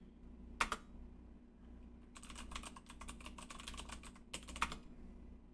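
Keys tapped on a computer keyboard while a sudo apt update command is entered: a quiet, close run of quick clicks with a couple of sharper keystrokes and brief pauses.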